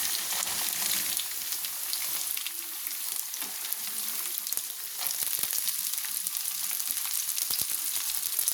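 Chopped beans sizzle steadily in a hot pan, a close, continuous fry with intermittent scraping and stirring.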